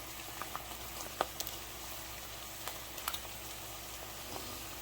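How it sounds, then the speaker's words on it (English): Bourbon poured into a hot pan while cooking smoked butt, giving a quiet steady sizzle and bubbling with scattered small pops and crackles, fairly faint and with no talking. "when you pour that alcohol in here, the alcohol gonna cook off, okay?"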